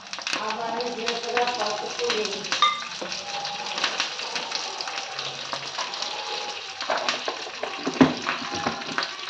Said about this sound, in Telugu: ఇవి వేసేస్తున్నాను. ఆనియన్స్, కరివేపాకు, ఎండుమిరపకాయలు అన్నీ